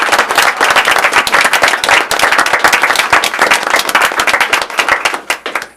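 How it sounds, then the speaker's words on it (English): A board meeting audience claps and applauds steadily and loudly for a long-serving staff member, dense and continuous, tapering slightly at the end. "let's applaud her"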